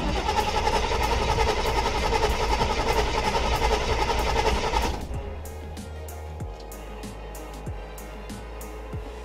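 A Chevrolet C10 truck with a carbureted engine, left unstarted for weeks, cranks and then runs loud and rough for about five seconds. It then drops to a quieter, steady idle with faint clicks.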